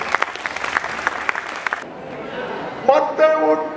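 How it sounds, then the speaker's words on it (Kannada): Brisk audience clapping at a Kannada college cultural festival fades out after about two seconds. Singing follows over a quieter background. "ಒಂದ್ಸರಿ ಚಪ್ಪಾಳೆ ತಟ್ಟೆ."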